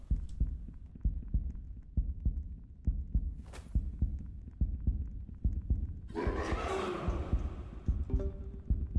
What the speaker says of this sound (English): We're gonna hear the heartbeat quite a lot